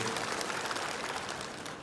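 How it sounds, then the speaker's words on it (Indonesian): Applause from the audience at a community assembly in Bali is a continuous crowd clapping that holds steady and fades slightly at the very end, with no speech in it. "Tepuk tangan untuk beliau"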